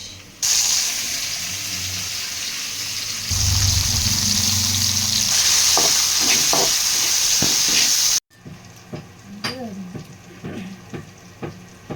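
Vegetables sautéing in a pan while cooking a curry, a loud, steady sizzle and hiss for several seconds that cuts off abruptly, followed by quieter scattered clatter and clinks.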